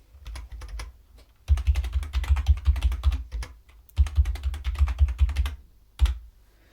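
Fingers type a username on a computer keyboard during a Linux install, quick clattering bursts of keystrokes separated by short pauses, close and clear with no talking.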